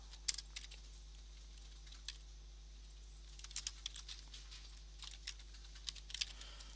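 Keys clacking on a computer keyboard while a name is typed, quiet and close, in two irregular bursts of taps separated by a pause, over a low steady hum.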